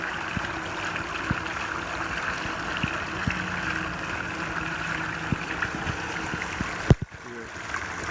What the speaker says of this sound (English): It's pouring out of the bag